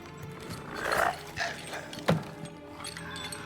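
A dog in The Witcher 3 video game barks a few times at the player, with one sharp, close bark standing out over mechanical game ambience.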